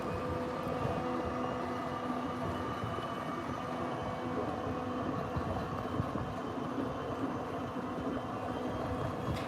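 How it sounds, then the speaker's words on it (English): A city tram pulls away from its terminus on Route 1, a steady broad rumble with tonal hum lines held at constant loudness throughout, fairly close and with no talking. "Be waiting for that tram there to leave the terminus"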